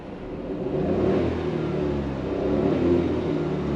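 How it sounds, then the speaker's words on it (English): A 1-liter three-cylinder turbo petrol engine in a 2022 Hyundai Venue hums steadily at idle, a low, even drone with slight swells in level and no voices. "This time just listen to the engine."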